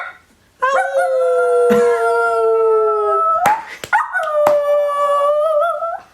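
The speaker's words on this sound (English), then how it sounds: "you want to hear him howl?" A dog howls up close in long, wavering cries, pausing briefly between two drawn-out howls with a few sharp knocks.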